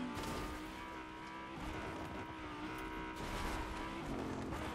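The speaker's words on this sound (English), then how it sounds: "Cars are loud." A car driven in the video game Fortnite, its engine droning steadily and fairly loud throughout with shifting tone, continuous without breaks and no talk over it.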